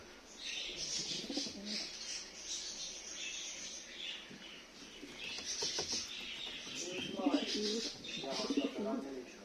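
Homing pigeons in a loft, a white male and a pied female among them, cooing in soft repeated throaty bursts close by, with a voice speaking intermittently over the birds.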